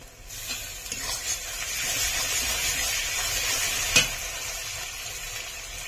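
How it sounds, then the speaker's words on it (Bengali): Ginger and garlic paste frying in a pan for a chicken and raw jackfruit curry gives a steady, soft sizzling hiss, with a brief sharp click near the end. "আদা ও রসুনটা আমি একটু ভেজে নিয়েছি।"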